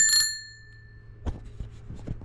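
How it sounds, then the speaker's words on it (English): A single bright ding from a bicycle bell on a Hyper 29er e-bike with a Bafang motor, ringing close and decaying over about half a second, followed by faint handling clicks. "This, I put a bell on it."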